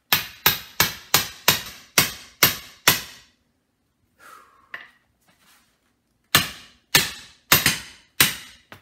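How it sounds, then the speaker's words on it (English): A metal hammer drives a piece into a wooden WWI-style trench club: about eight sharp, evenly spaced, ringing strikes, a pause with faint handling noises, then five more quick blows close by. "It's almost in, but I'm going to use a metal hammer."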